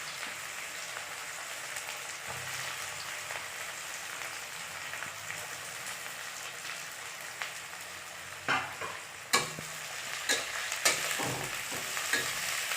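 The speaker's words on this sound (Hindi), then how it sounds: "सबसे पहले हम इसमें प्याज डालेंगे।" Onions fry in hot oil for a chicken masala with a steady, close sizzle, while a few stirring scrapes and clinks break through toward the end.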